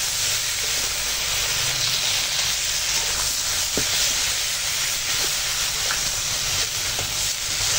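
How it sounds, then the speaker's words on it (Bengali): Spices and vegetables frying in a pan for a Bengali curry make a steady, loud sizzle with a constant hiss, joined by a few faint scraping stirs and no voices. "মশলাপাতি দিয়ে দিলাম। এখন কষাতে হবে।"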